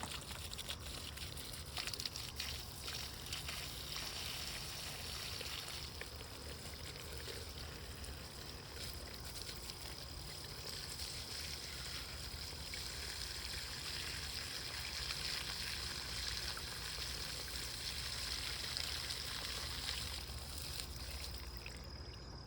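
Water pours steadily from a gallon jug onto outdoor plants, a continuous close splashing wash that runs unbroken with no voices.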